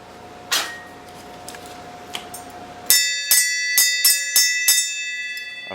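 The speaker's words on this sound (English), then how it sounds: "would you ring the bell before you go?" A bell rings several times in a quick run of bright metallic strikes, each one leaving a long shimmering ring, after some earlier single clanks and knocks in a workshop where a big-block engine swap is under way.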